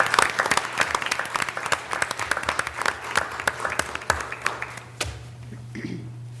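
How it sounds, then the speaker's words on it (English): An audience at a school board meeting claps for the kids, a lively burst of many hands close by that thins into scattered claps before fading, with a low steady hum beneath. "maybe a round of applause for the kids if we could"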